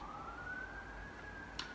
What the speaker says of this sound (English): There's a police car passing by.